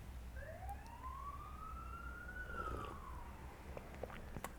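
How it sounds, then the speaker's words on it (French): An emergency vehicle siren wails outside, a single long rising and falling tone heard faintly from a distance over low traffic rumble, with no voices. "J'ai vraiment pas de chance moi avec les sirènes et tout là aujourd'hui."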